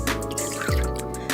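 Slime activator liquid poured into glue in a bowl, with a short trickling splash and a few drips, close and clear.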